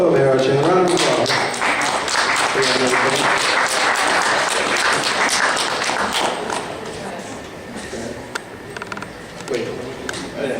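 Audience applause at a Kraken Con 2014 costume contest, a dense crackle of clapping filling the room for a contestant, heard alongside the host's voice talking through it.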